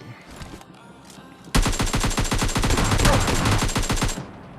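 Sustained automatic AKM fire in PUBG Mobile Lite, a loud rapid string of evenly spaced shots lasting about two and a half seconds, preceded by quieter game ambience and a couple of faint distant bursts.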